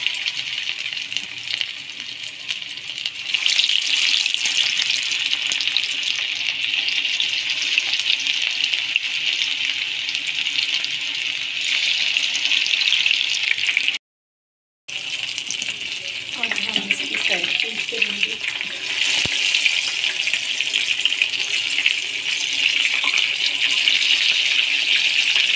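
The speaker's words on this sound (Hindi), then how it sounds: "हमारा ऑयल जो है वो अच्छी तरह से गर्म हो गया, इसमें हम अब फिश के पीस ऐड करेंगे।" Fish pieces sizzle in hot oil in a steady, loud, hissing fry that runs almost the whole time, broken by one brief silent gap partway through.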